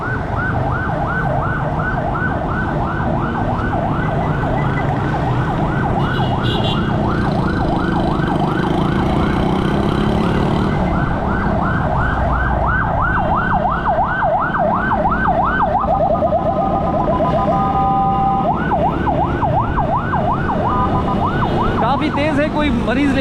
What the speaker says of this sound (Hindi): एम्बुलेंस आ रही है, बहुत तेज़ी से रास्ता देते हैं।